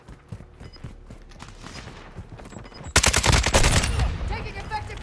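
Gunfire in the Modern Warfare II video game: scattered distant shots early on, then a loud close burst of automatic fire erupting midway and continuing with dense rattling shots to the end.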